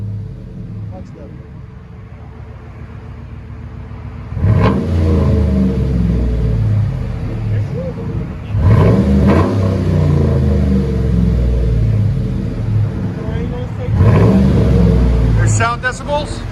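A 2010 Chevy Silverado 5.3L V8 revs up in three loud bursts, deep and rumbling through a throaty Flowmaster Super 10 dual exhaust, settling into a lower idle between pushes; voices talk underneath.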